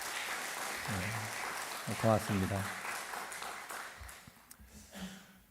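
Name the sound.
church congregation applause after a hymn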